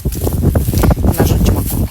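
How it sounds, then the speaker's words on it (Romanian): Steady wind buffeting a microphone outdoors, a continuous rough rumble that gusts slightly but never drops away for the whole moment. "E puțin vânt, bate puțin vântul"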